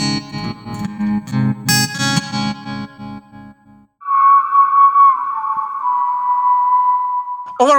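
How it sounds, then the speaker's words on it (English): Acoustic guitar played through a NUX Mighty 8 BT practice amp: strummed chords ring out first, then a single sustained note wavers with a pulsing tremolo effect, loud and close with no talking. "I want to have a tremolo on acoustic guitar."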